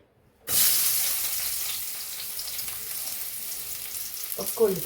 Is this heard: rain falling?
no